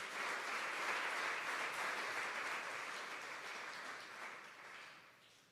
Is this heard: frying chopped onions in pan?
no